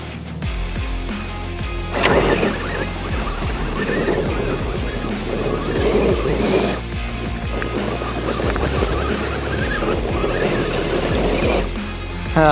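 An Axial SCX6 Trail Honcho RC crawler drives over rough ground. Its electric motor whirs and grinds continuously, with knocks and bumps as the truck climbs and lurches.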